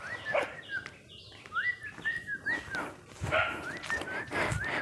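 A dog barks at visitors near a house in a remote hill village, its yelping barks coming in quick uneven bursts, moderately close, with birds faintly audible in the quiet surroundings.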